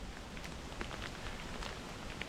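Soft, steady rainfall on the Cotswold Way patters continuously on surfaces, with scattered closer drops ticking now and then, fairly quiet.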